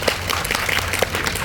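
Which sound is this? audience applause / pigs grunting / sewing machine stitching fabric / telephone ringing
audience applause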